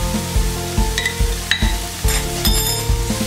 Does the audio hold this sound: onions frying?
yes